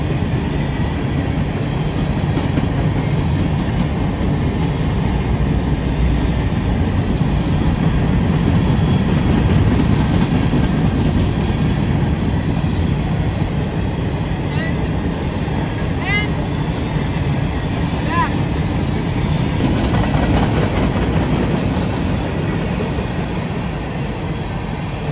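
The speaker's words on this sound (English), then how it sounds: "try to get some cool photos of me standing with the train going by" A long rock freight train led by a GEVO locomotive rumbles past at close range in Folkston, Georgia, a steady heavy roar of rolling wagons with faint clicks and squeals throughout, holding at full loudness for the whole stretch.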